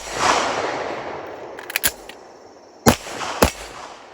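A CZ 75 SP-01 handgun fires several sharp, loud shots at a range. There is a quick cluster of cracks, then two more spaced reports with a short echo, over background noise.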